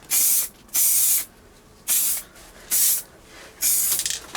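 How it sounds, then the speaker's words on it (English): Etching primer sprayed from an aerosol can in five short bursts, each a loud, sharp hiss lasting about half a second, separated by brief quiet gaps, with no voices. "I've decided I'm going to go spraying. I'll use an etching primer"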